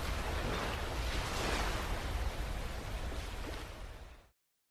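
Ocean surf at a beach rolls in as a steady broadband wash, waves breaking and hissing continuously at moderate loudness before cutting off abruptly near the end.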